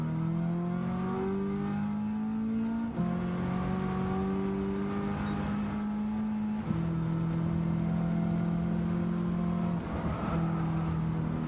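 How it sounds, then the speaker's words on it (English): An 800-horsepower V8 race car engine in a racing sim video game drones loudly and steadily, with its pitch stepping up through gear changes as it accelerates. "I got an 800 horsepower V8 in this thing."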